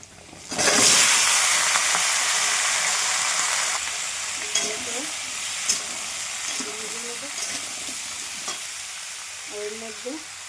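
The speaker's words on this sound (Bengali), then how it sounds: "এবার সমস্ত কেটে রাখা সবজিগুলো দিয়ে দেবো।" Chopped vegetables, onion and panch phoron drop into hot oil in a pan with a sudden loud sizzle that settles into a steady frying hiss, broken by faint clinks and scraping stirs.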